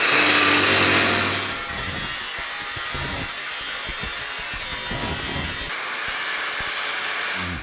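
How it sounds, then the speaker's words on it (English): A Dremel fitted with a thin cutting disc grinds along the curved edge of a rusty car's lower front outer sill panel, a continuous high whine and rasp that holds steady, then dips briefly near the end. "on the edge here, because it's curved, I'm going to use a Dremel for that purpose"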